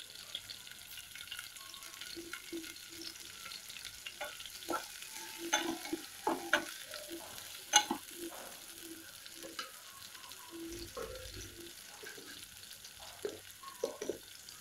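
Onion pieces fry in a pan for a drumstick gravy curry, a faint sizzle broken by scattered scrapes and taps of a spoon stirring them, irregular and close.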